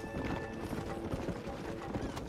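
Close, quick clip-clop of a horse galloping in the video game Red Dead Redemption, a dense rhythmic hoofbeat at moderate level with a faint whinny-like tone.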